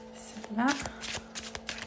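Tarot cards riffle and slap together in a quick shuffle close by, a brief flurry of papery flicks and taps while someone speaks softly in French.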